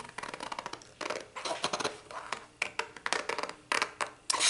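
Repeated crisp snips of scissors cutting paper, in quick bursts with short pauses, close up and clear, no talking.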